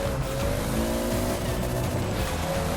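Toyota Supra engine in the racing game Forza Horizon 4, played with a steering wheel: a steady, loud engine drone with shifting pitch that holds the whole time, with no voices.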